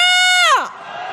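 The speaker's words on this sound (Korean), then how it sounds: "탄핵의 함성 시작!" Marchers at a candlelight impeachment rally in Hongdae, Seoul, raise a loud sustained shout that swoops downward and fades into a lower wash of crowd noise and distant voices.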